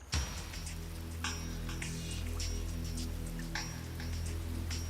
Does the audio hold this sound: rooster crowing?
no